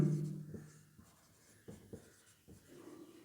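Chalk scratching and tapping across a blackboard during a chemistry lesson on solutions, in short strokes with pauses between, fairly quiet and close, with no voices.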